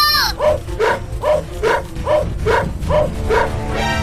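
Cartoon dogs bark in a steady, evenly spaced series of about nine loud, close barks, with a brief sound before the first.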